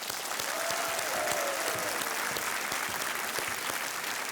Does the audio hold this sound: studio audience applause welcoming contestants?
yes